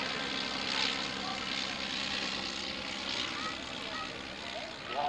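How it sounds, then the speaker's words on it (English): A vintage propeller aeroplane, the oldest British aircraft still flying, drones steadily overhead at an evening air display at Shuttleworth, its engine a continuous distant hum while people talk faintly. "we've got the oldest British flying aeroplane and the oldest British flying glider in the sky now at the same time"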